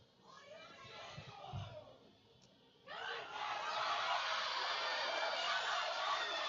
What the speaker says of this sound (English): Crowd is pumping.